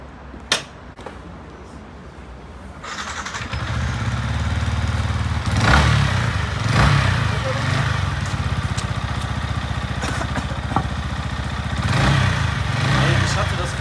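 A motorcycle engine starts up and runs steadily after a few sharp clatters, with the throttle blipped for a couple of revs, close by on a first ride after passing the licence test; voices talk over it.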